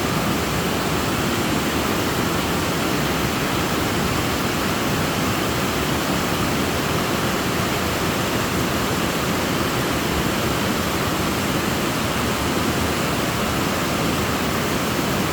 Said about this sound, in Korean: 비가 많이 오니까 이제 와안에막 물이 막 떨어지네요